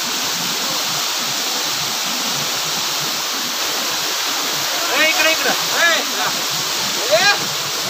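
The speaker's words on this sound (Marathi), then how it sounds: "सह्याद्रीच्या कुशीतून वाहणारा हा धबधबा." A waterfall in the Sahyadri mountains roars as a dense, continuous rush of water, loud and steady, with birds chirping briefly and faintly over it.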